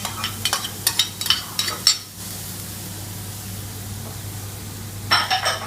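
Onions and red pepper cooking in a paella pan, a steady sizzle with bursts of scraping and clinking as the spatula stirs, pausing briefly before stirring resumes.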